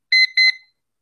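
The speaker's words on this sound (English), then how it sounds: "Is it gonna beep for me?" A Time Timer visual timer gives two quick, bright electronic beeps, close and clear, followed by silence.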